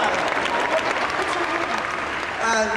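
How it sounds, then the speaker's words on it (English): A convention panel audience applauds steadily, dense clapping filling the whole stretch, with a brief swell near the end. "You could clap for Sailor Moon, come on."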